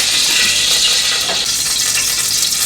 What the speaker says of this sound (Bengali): সামান্য সানফ্লাওয়ার অয়েল দিচ্ছি